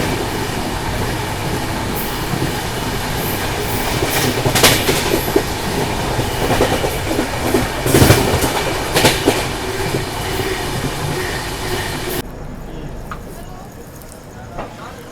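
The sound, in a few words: passenger train running on rails, clickety-clack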